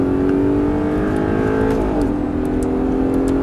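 An Audi R8 engine drones steadily at high revs on a race track at Dreux, pitch dipping briefly as it shifts, then climbing again, loud and continuous.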